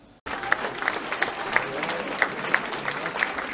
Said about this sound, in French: Les applaudissements retentissent ce soir pour les élèves du collège Saint-Jean-Baptiste de la Salle de Vitry-le-François